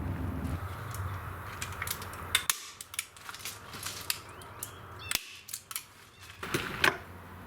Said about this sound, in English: open it up like petals, and then staple it.